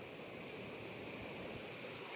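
Devkund waterfall in Mayurbhanj, Odisha, gives a steady, faint rush of falling water, an even hiss with no break and no talking.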